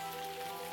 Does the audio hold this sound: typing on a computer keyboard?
no